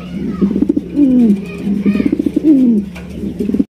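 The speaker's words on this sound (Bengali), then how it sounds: "অনেক সুন্দর এক জোড়া দামাসিন কবুতর দেখতেই পাচ্ছেন, এটা হচ্ছে আইসবার দামাসিন" A pair of Ice Bar Damascene pigeons coo close by in soft, rolling, repeated calls, with a faint voice in the background.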